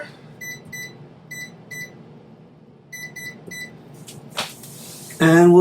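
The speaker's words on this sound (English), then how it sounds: "set our timer." An oven timer is set for a cheesecake, sounding two clusters of short, clear electronic beeps in quick pairs, followed by a clattering noise and then a louder rumbling sound.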